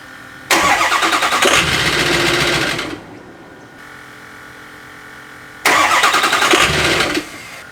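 Ford 6.0 Powerstroke diesel in an F-250 cranked from cold by remote start, two loud, close bursts of rapid starter whirring, the first about two and a half seconds and the second shorter, with a quiet gap between and no catch.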